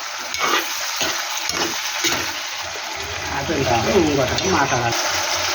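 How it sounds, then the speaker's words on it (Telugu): Ginger garlic paste frying in hot oil for chicken liver curry, a constant crackling sizzle with a voice talking over it partway through. "అల్లం వెల్లు పేస్ట్ కొంచెం ఆయిల్లో ఫ్రై అవ్వాలి"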